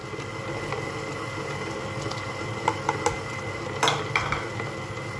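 Biscuit dough being stirred in a bowl right after milk is added, soft wet squishing with a few light clinks of utensil against the bowl, quiet and close.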